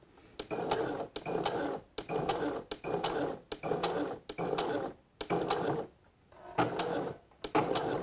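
A sewing machine backstitches slowly over a previous seam on swimsuit fabric, running in short mechanical bursts of rapid stitching separated by brief pauses.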